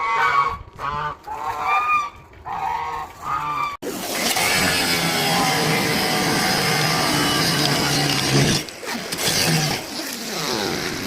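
A flock of geese honks in loud, repeated bursts, followed by a long stretch of dense, continuous honking and cackling close by.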